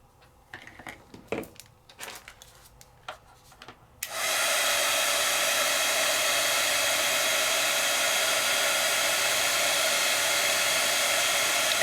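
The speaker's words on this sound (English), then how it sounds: "And I'm going to bring over my heat tool." A craft heat tool melts embossing powder, starting abruptly after a few quiet rustles and clicks and then blowing as a steady, loud, close hiss that continues without a break.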